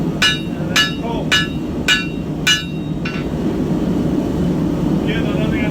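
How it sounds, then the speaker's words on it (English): A hammer flattens a hot iron knife guard during forging with five sharp, ringing blows about half a second apart, then one fainter strike, over a low background hum. "So I've hammered it a bit flatter."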